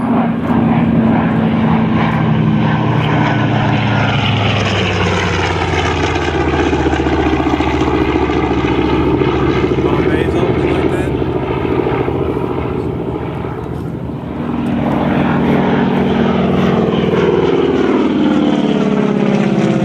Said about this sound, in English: Charlie Lynch in the TBM, the Grumman Avenger